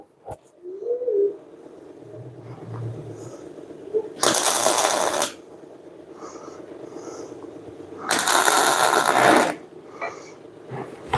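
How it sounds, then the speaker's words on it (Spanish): Tack welding on a safety lug nut assembly for type 950 rear axles: two loud bursts of sputtering, crackling arc, each lasting about a second, separated by quiet shop background and a faint voice. "Voy a puntear esta parte"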